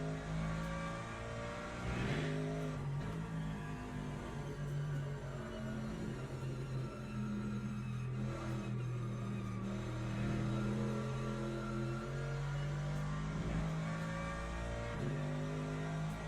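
Race car engine from the Le Mans Ultimate racing game, a Mercedes on track, droning steadily and loud with shifting revs throughout, tire noise blended into the continuous engine roar; no talking.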